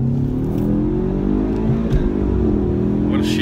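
A tuned Ford Mustang EcoBoost accelerates hard, its engine note climbing loudly with a brief dip around a gear shift before rising again, heard close from inside the car.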